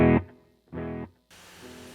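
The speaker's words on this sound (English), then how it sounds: "I have a quarter note delay, and it sounds like this." A guitar runs through a quarter-note Adriatic delay on a Line 6 Helix: a distorted note, then a clear echo repeat about half a second later, then a softer wash of trailing repeats.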